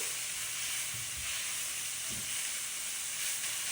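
Chicken pieces for crispy chili chicken fry in a pan, giving a steady, close broadband hiss with a couple of soft low thumps as they are flipped; no one speaks.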